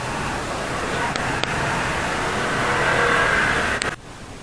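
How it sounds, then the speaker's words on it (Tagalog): A Rusi GY6 scooter engine running with a noisy pulley, a close, steady whirring drone with a slight rise in revs, broken by a couple of brief clicks before it drops away at the end. "Ngayon, i-share ko sa inyo kung bakit maingay yung pulley."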